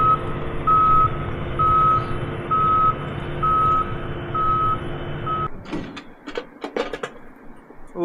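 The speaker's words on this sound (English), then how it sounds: "Looks like Dad's got the combine started." A farm combine harvester runs with a steady mechanical rumble and a regular reversing-style beep repeating every second or so, then the engine noise cuts out and several sharp knocks and clatters follow.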